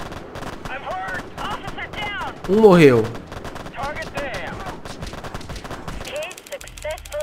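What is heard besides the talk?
gunfire in a police tactics video game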